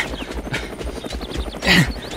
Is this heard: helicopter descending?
yes